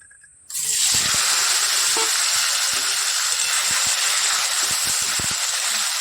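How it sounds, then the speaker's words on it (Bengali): Cut potatoes and tomatoes hit hot oil with cumin seeds, bursting into a loud, sudden sizzle after a quiet start, then a continuous frying hiss with light stirring knocks. "একটু ভেজে নিই লাল লাল করে"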